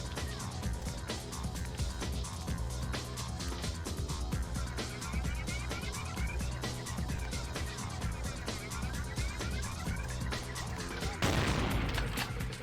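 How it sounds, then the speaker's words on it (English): Rapid repeated gunfire in Vampire: The Masquerade – Bloodlines, dense sharp shots crackling steadily for several seconds, ending in a louder burst of noise near the end. "Where do they shoot me from?"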